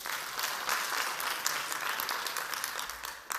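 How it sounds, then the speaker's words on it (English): Many hands clap together as a talk audience responds, a full, continuous burst of applause that holds steady before tapering slightly near the end. "please clap your hands."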